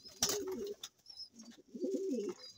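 Pigeons coo in two close, soft bursts of throaty, rolling calls, with brief rustles and a faint high chirp between them.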